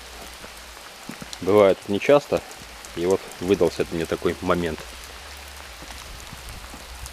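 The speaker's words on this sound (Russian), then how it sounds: "Град и немножко дождя." Hail with light rain pattering down at a dacha in spring, a steady soft patter running beneath someone speaking close by.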